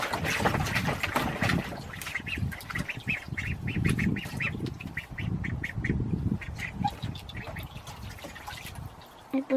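Duck quacking repeatedly in rapid, raspy bursts close by, with water splashing and sloshing underneath and a few louder honks near the end.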